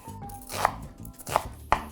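Three sharp knife chops on a cutting board while cutting onion small, spaced irregularly over a low hum with faint background music.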